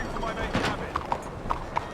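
Horse hooves clip-clop on a town street in Red Dead Redemption 2, a few close, evenly spaced clops ringing out alongside someone talking.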